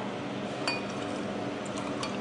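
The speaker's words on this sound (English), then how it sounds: "pour into the glass like so" Red wine being poured from a wine measure into a glass, giving a faint, steady liquid trickle with a couple of light glass clinks, close by, no talking.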